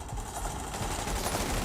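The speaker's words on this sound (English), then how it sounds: "I have a submachine gun that has the skill" Steady, continuous submachine gun fire in a cover-based shooter video game, a fast rattling stream of shots at moderate level that runs unbroken through the whole moment.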